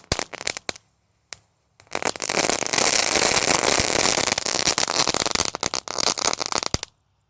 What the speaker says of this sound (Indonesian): Lanjut yang kita nyalakan di sini ada mercon telur dino.